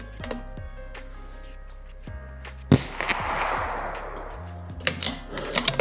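.22LR rifle shots at target practice outdoors: a few sharp, separate cracks spaced irregularly, with one louder, fuller blast near the middle followed by a brief rushing noise, no talking.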